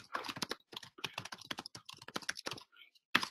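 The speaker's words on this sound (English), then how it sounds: "and I'll type it out." Steady bursts of typing on a computer keyboard, quick irregular clicks close to the microphone, pausing briefly and ending with a final cluster of keystrokes, no speech.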